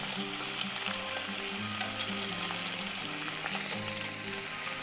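Garlic paste and paprika fry in a pan with a steady, even sizzle that stays at a constant level throughout, over a faint low hum and no talking.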